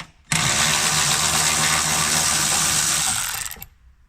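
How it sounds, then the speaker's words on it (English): A cordless battery ratchet spins out bolts on a Honda Civic Type-R, making one loud, steady motor whir that runs about three seconds before winding down, close up and alone. "So, battery ratchet. So we'll go for this one."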